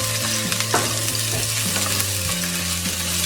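Garlic sautéing in a frying pan for chicken adobo, a steady close sizzle with stirring scrapes and shifting tones, no voices.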